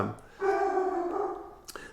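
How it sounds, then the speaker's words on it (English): A single sustained, tonal dog bark or howl-like yowl, moderately close, lasting about a second before fading out. "Sorry for the barking"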